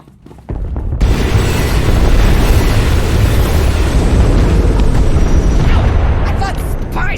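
A cannon fires in Star Wars: The Old Republic, and a heavy blast bursts in after a brief quiet opening, then rolls on as a loud, dense rumble that barely eases for several seconds.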